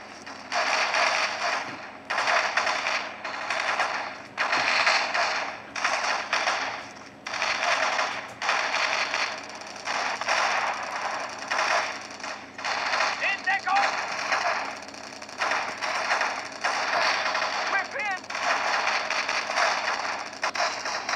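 Bursts of rapid gunfire and mechanical clatter from the World War II shooter Brothers in Arms come in repeated volleys at moderate level, mixed with game effects throughout.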